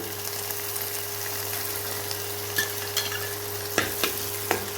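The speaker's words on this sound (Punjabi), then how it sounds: "ਇਹ ਪਾ ਦਾਂਗੇ ਤੇ ਇਹਨੂੰ ਆਪਾਂ ਕੀ ਕਰਾਂਗੇ ਭੁੰਨ ਲਾਂਗੇ ਇਹਨੂੰ ਆਪਾਂ 3 ਤੋਂ 4 ਮਿੰਟ ਤੱਕ ਇਹਨੂੰ ਆਪਾਂ ਬਰਾਊਨ ਹੋਣ ਦੇਣਾ" Onion, garlic, ginger and green chillies fry in a pan with cumin seeds, giving a steady close sizzle with a few sharp stirring scrapes and clinks near the end.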